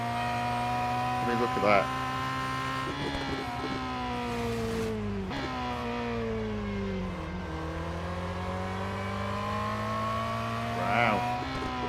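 A Lancia race car engine in the Real Racing 3 video game drones and revs continuously, pitch rising and falling with gear changes, while someone briefly talks over it.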